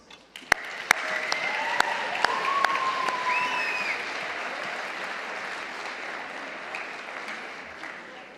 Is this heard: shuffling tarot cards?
no